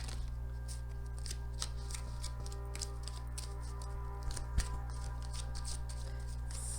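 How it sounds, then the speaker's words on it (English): Tarot cards being shuffled by hand, a run of soft riffling and flicking bursts over a steady low indoor hum, fairly close and with no talking. "So one more shuffle."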